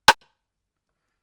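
A lone rim shot drum sample for a house and R&B beat: one sharp, bright click with a quick tail, isolated and fairly quiet.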